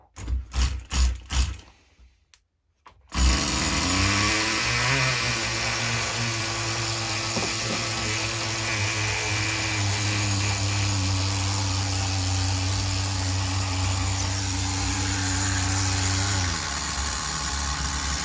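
A Tamiya TGS-R nitro RC engine idles steadily at low revs after some brief handling knocks, a near, continuous buzzing drone with no talk.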